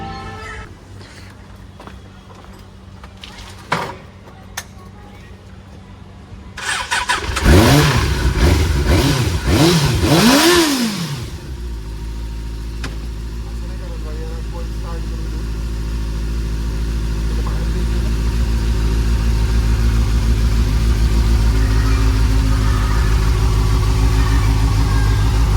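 A motorcycle left standing in the rain for two weeks coughs and turns over in a loud burst of cranking and revving, then settles into a steady running engine rumble that grows slightly stronger toward the end.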